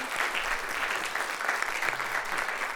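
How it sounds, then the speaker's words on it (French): An audience at a gala applauds warmly, a dense, steady clatter of many hands clapping together, close and sustained throughout without voices rising above it. "je tiens à leur accorder une main d'applaudissement"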